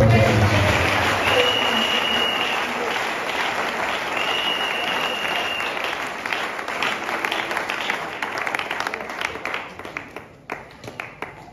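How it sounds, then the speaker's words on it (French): A church congregation at a Sunday worship service applauds loudly, dense clapping mixed with cheers and a few whistles, then gradually thins into scattered claps as it fades. "Acclamez très fort."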